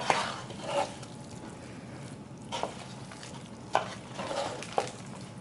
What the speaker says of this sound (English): You're going to stir that together until they're all mixed in.